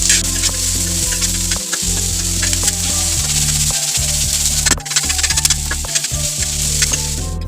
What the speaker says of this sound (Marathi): आता यामध्ये आपण टोमॅटो घालून घेऊ आता टोमॅटो याच्यामध्ये व्यवस्थित एकजीव होईपर्यंत आपल्याला हे सगळं ढवळून घ्यायचं आहे